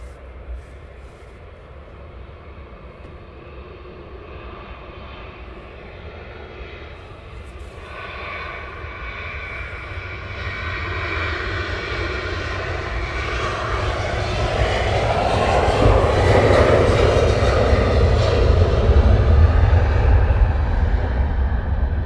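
Airplane at Luton Airport in the early morning, its jet engines roaring as it turns and prepares for departure, the sound swelling louder and brighter toward the end.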